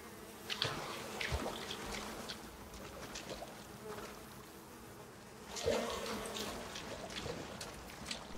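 Swarm of bees from a nest buzzing in the survival game Icarus, a steady droning hum that swells louder midway, with no talk over it.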